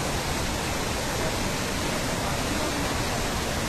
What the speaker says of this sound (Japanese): 幅約2メートルの滝で、市内では最大規模のものになります